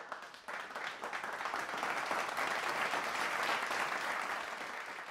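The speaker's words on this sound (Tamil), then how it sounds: "எல்லாரும் ஒரு பலத்த கைத்தட்டல் கொடுக்கலாம்." An audience at the Thiru Vivilia Vizha 2022 Bible festival stage event breaks into loud, sustained applause that swells in and holds for several seconds as a dense wall of clapping.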